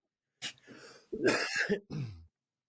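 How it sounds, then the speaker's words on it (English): Someone close by coughs a few times in quick succession, harsh and throaty, with quiet between bursts. "I'm coughing again."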